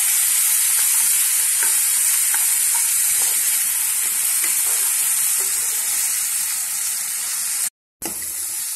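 Tomatoes frying in a pan for egg noodles give a steady, loud sizzle throughout, with faint clinks of stirring and a brief cut near the end.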